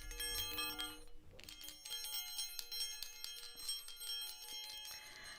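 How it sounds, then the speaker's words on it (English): A small hand bell rung in repeated bright metallic jingles, clustered strikes with ringing overtones and a brief pause early on, fairly close and alone. "Got my little bell."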